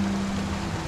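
Haigler Creek flows where the Chamberlain Trail crosses it, a steady, loud and close broadband rush of water with no break and no voices.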